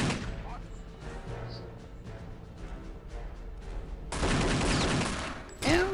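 Gunfire in the game Return to Castle Wolfenstein rattles in fast, continuous volleys, with a louder burst near the end and a voice talking over it.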